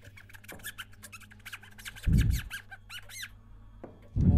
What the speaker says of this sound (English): What the hell is that? Bunch of squeaky noises.